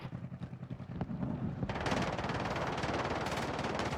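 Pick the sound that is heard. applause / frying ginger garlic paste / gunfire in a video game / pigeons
gunfire in a video game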